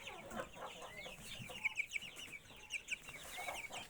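Young chicks cluck and chirp softly in a close group, a busy overlapping chatter of small peeps and clucks at moderate distance.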